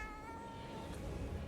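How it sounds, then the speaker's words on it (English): A cartoonish cat meow from an emote in the video game Destiny rises over a steady wash of game ambience, with a tonal hum running beneath the short call. "I love how the cat meows, by the way."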